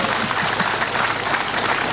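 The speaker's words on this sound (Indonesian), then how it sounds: "Tepuk tangan dulu." Brief burst of audience applause at a Batak comedy show in Tobasa, steady crowd clapping throughout the short stretch with a low murmur underneath.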